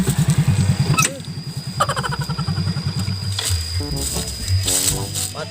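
Motorcycle engine sputtering and chugging close by, a rapid uneven idle that drops and picks up again with a brief rev, alongside a faint steady whine.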